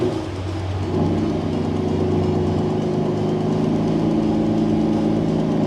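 A BMW F82 M4 with its S55 engine and new equal-length midpipes fires up warm, a brief rising crank settling within a second into a steady, close, rumbling idle that holds evenly throughout.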